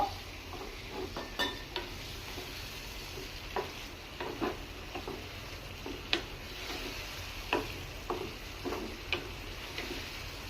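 Pre-fried potatoes being stirred in a pan for a Bengali broccoli and potato sabzi, with soft continuous frying sizzle under repeated scraping and clinking of a spoon against the pan at an uneven rhythm.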